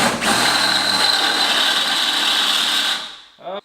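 A power drill boring out a too-small bolt hole in a turbo exhaust housing on a budget LS engine build, whining loud and steady for about three seconds before winding down, followed by a brief voice.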